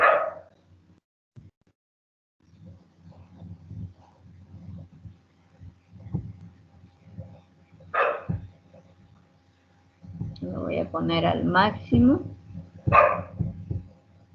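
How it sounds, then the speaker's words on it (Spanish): A small female dog barks in short sharp bursts indoors, some distant and some nearer, with a quick run of yips toward the end, while someone speaks over a low background hum. "mi perrita está ladrando"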